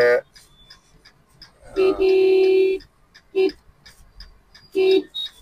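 A Maruti Suzuki Brezza car horn honks in short blasts, one long steady toot followed by two shorter ones, loud and close with faint background noise between.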